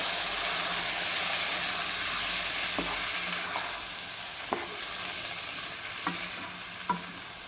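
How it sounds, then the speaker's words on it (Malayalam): Chickpeas stir-frying in a pan for a homestyle kadala ularthiyathu, with a steady close sizzle and a few sharp spatula scrapes and taps spaced out over several seconds. "നമുക്കൊന്ന് ഇളക്കി കൊടുക്കാം"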